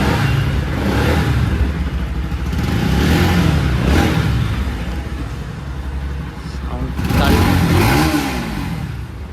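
A custom-modified Bajaj Pulsar NS200 motorcycle revs loudly and close by, its engine surging and easing in long swells across the whole stretch.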